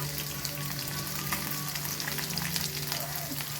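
Sliced onion and green chillies hit hot oil alongside curry leaves, sizzling and crackling steadily in a pan, close and even, with faint stirring and no talking.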